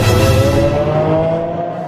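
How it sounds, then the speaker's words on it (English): A Lamborghini Aventador prototype from 2008 drives on a test track, its engine giving a loud, steady, sustained drone with pitch that eases slightly as the car runs past. "the prototype model takes to the track to be put through its paces for the first time"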